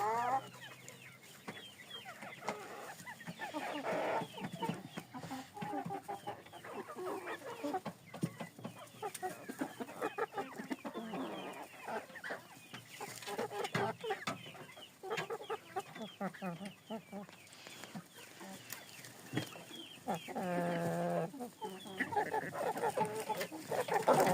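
Silkie chickens cluck and squawk nearby in a continuous, chattering stream, several birds calling over one another.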